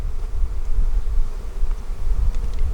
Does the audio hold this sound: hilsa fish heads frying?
no